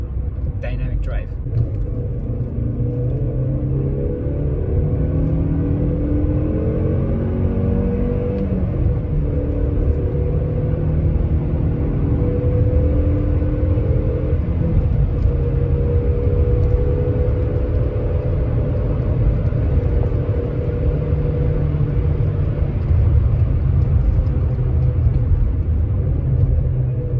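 A naturally aspirated 135-horsepower Peugeot 406 with a manual gearbox drones steadily under hard driving, a continuous loud engine rumble with shifting pitch. Someone talks over it throughout.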